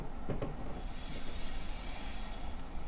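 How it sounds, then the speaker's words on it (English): Train rolling over switch points in Train Simulator 2016, a steady rumbling rail roar with a couple of sharp clacks near the start and wheel squeal continuing throughout, loud and close with no talk. "we are going to pass over some switch points onto this side track."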